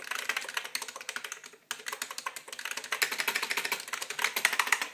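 Rapid, crisp keystrokes on a cleaned Packard Bell keyboard with BTC dome switches, a close, even clatter with one brief pause, with no talking.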